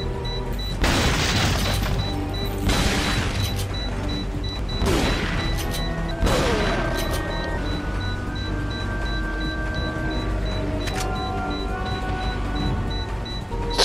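Explosions from bombs in the video game Resident Evil 4, several heavy booms at irregular intervals with crackling debris and lingering rumble between them, loud and close.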